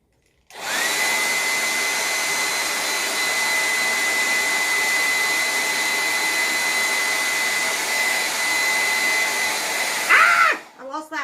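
A hair dryer runs steadily and loudly while drying chalk paste on a wooden craft frame, with a constant whining hum that is cut off near the end, followed by a brief handling rustle and soft noises.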